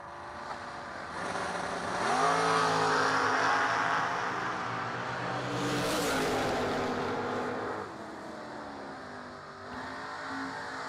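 Dragster race cars at a drag race, engines roaring loudly and continuously with a rising rev near the start, a swelling pass in the middle and a falling pitch toward the end, with crowd-level ambience throughout.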